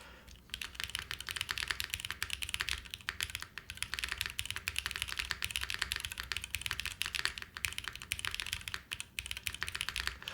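Fast, continuous typing on a computer keyboard mounted on springs, a dense patter of close, crisp key clacks with slight springy resonance and brief pauses, no voices.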